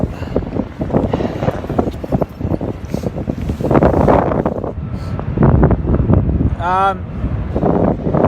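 Strong gusting wind on top of a crane in Port Botany, Sydney, on a stormy day buffets the microphone in loud, rumbling bursts throughout, with a brief high whistling squeal near the end.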